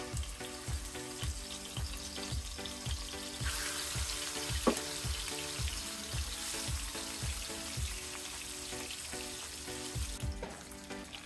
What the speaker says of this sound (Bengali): রান্নাটা শুরু করার আগে মাছগুলোকে আমি ভেজে নেব।